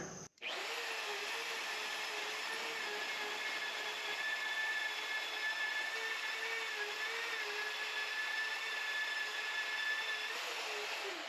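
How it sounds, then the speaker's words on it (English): Magnetic drill with an annular cutter and automatic oil drip boring through steel frame metal, a steady loud whining motor hum with a grinding cutting tone, continuous and close for the whole stretch. "So let's drill this hole."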